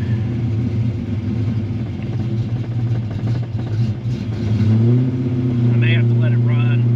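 A Fox Body Mustang engine idles up during an EGR test, holding a steady low rumble that lifts in pitch partway through, while someone talks close by over it.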